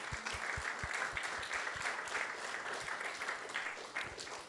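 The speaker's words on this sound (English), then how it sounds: "Let's give a big round of applause." A gathering after a talk on the Bhagavad Gita gives a steady round of applause, many hands clapping at moderate distance with a few sharper nearby claps, heard fairly faintly throughout.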